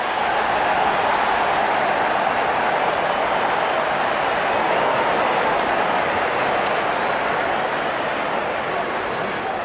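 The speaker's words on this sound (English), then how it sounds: "Out come the openers, cheered by a good crowd in." Steady broadband roar of a large crowd cheering as the openers walk out at a cricket match in a video game, continuous and dense throughout with no distinct voices standing out.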